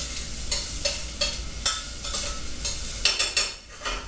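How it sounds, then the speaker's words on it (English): Onion and garlic sizzle steadily in a hot pan while being cooked down, with a constant frying hiss broken by repeated scraping stirs of a utensil at a fairly even rhythm. "that onion and garlic cooking down, becoming aromatic"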